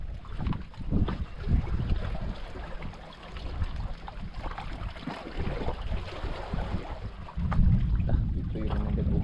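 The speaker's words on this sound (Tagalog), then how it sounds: "Ito ang hangin ito ah." Strong wind buffets the microphone on an island shore, a continuous heavy roar with gusts that swell and fade, growing louder toward the end.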